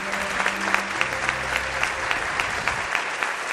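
A studio audience on a television program claps for a newly arrived guest, a steady, close round of applause with a voice talking over the first couple of seconds.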